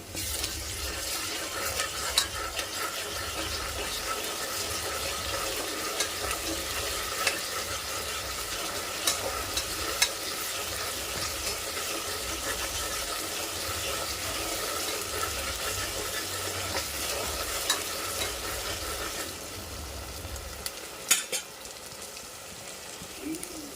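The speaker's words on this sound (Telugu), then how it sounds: "2 స్పూన్లు వేసాను అల్లం వెల్లుల్లి పేస్ట్. ఇది కూడా బాగా వేగనివ్వండి." Ginger garlic paste frying in a pan for a mutton dish, a steady continuous sizzle with occasional stirring scrapes, no one speaking over it.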